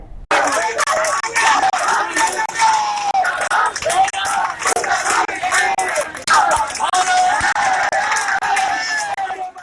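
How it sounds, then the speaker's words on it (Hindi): A crowd of landless protesters fills a demonstration with a steady, loud roar of many voices, babble and shouting, with occasional claps, sustained throughout. "ये भूमिहीनों का भीड़ है जो 3 साल के अपने आंदोलन के बाद जो ठगा महसूस किया, आज सबों का गुस्सा फूट आया है।"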